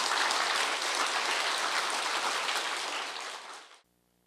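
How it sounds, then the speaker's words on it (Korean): An audience at a forum claps together in a dense, even round of applause that fills the room. It tapers briefly, then cuts off abruptly near the end. "여러분도 박수 한번 쳐주십시오"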